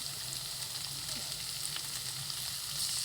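Boiled, squeezed banana stem frying with spices and salt in a pan, a steady soft sizzle continuing throughout, close and alone without talk.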